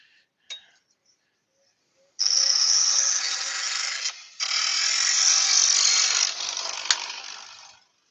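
Scraper cutting across a spinning yew bowl on a wood lathe, a steady hissing scrape that runs about two seconds, breaks briefly, then continues for another two and a half seconds before fading, with a sharp click near the start.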